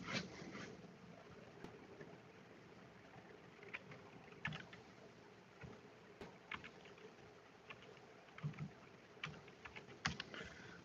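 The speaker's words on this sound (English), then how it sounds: "type in my password here" Quiet typing of a password on a computer keyboard: sparse, irregular key clicks and taps scattered across the span, close but faint, with no talking.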